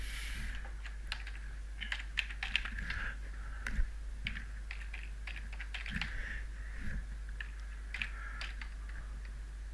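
Someone types an email address on a computer keyboard: a steady run of close, crisp key clicks with a few louder taps, heard alone over a low electrical hum.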